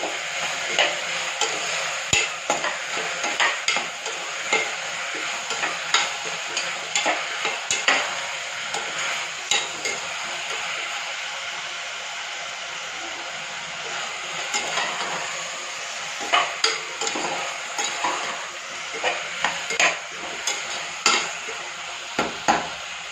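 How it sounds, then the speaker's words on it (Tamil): Steady sizzling of tomatoes sautéing in a pan, with a spatula scraping and stirring in irregular bursts; no voices. "தக்காளி வந்து தெரியக்கூடாது, அந்தளவுக்கு சுண்டி நல்லா வதக்கணும்."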